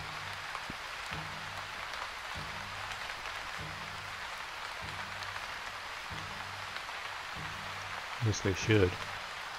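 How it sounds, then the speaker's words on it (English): Steady rain hiss falls across a video game scene, a continuous even wash heard under a person's talk, with a brief louder burst near the end. "Oh good, it's gonna rain,"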